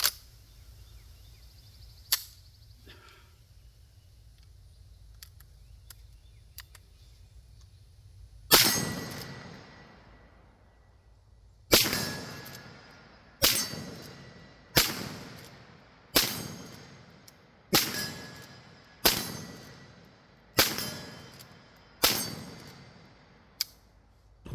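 A Smith & Wesson 1854 lever-action rifle fires about ten loud sharp shots outdoors, the first few spaced apart and the rest in a steady rapid rhythm, each with a short ringing decay.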